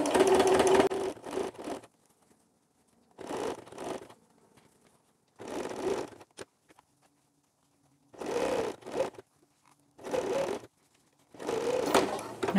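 Sewing machine stitches the underwire channel of a bra in short bursts, each run of rapid needle strokes lasting about a second and separated by pauses, close and fairly loud.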